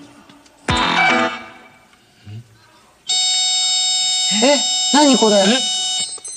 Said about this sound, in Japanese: 爆破タイマーが作動しました。